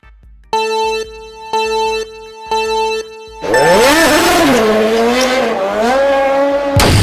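A Mario Kart go-kart starts with three beeping countdown tones, then the engine revs up loudly and whines up and down in pitch as it drives off, with tire squeals layered in.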